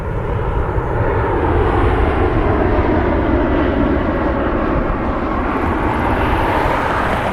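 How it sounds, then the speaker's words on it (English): A Boeing 747 airliner passes by, its engines making a loud broad roar that swells slightly and holds steady for several seconds, with no voices. "I have another 747 pass by."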